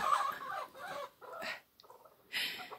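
Several bursts of hen clucking and squawking from nearby chickens, uneven in rhythm, with short pauses between calls.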